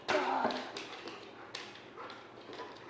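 A dog whines and yips close by in a room, a few short vocal bursts with soft thumps, while a person talks to it.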